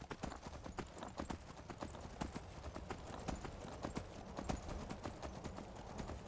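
Horse hooves clip-clopping steadily in the video game Skyrim, a continuous run of close, crisp hoof strikes in a brisk rhythm over a faint background.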